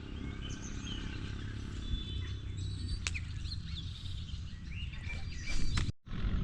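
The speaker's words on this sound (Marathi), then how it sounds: "ह्या दोन पक्ष्यांचं काय चाललं आहे मलाच कळत नाही आवाज करतायत वेगवेगळा" Two birds give varied chirping calls through heavy monsoon rain in the Konkan, with a steady, dense hiss of rainfall throughout and the bird calls standing out faintly above it.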